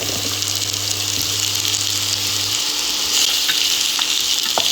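Chopped pumpkin sizzles and fries steadily in a pan after potatoes, a continuous close crackle with a low hum in the first half and slight stirring clatter, no voices.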